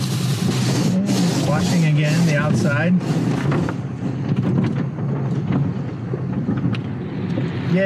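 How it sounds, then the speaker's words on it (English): Inside a car at an automatic car wash in America, blowers push hot air over the car to dry it, making a steady broad roar. A voice talks over the start of it. "Now this is blowing hot air. It blows hot air on the car to try to dry it off."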